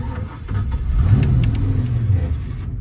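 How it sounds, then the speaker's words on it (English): 1967 Ford Falcon with a 302 V8 pulls away on a test drive, its engine note rising as it accelerates, heard close from inside with no talking. "I'm gonna try to go for a little test drive here."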